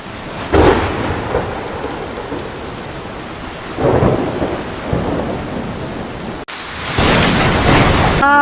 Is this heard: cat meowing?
no